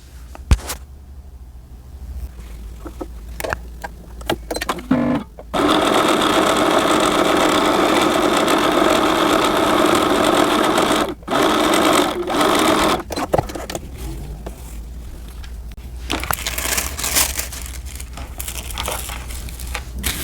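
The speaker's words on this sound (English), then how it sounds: "So I'm gonna hem it now" A sewing machine hems a pleated skirt for an 11.5-inch doll, sewn from the Simplicity 5785 pattern. It runs in one steady, close stitching burst of about seven seconds, with quieter fabric handling before and after.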